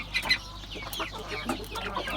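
Chickens and young chicks cluck and chirp in a steady, overlapping chorus at feeding time, with close, busy calls throughout.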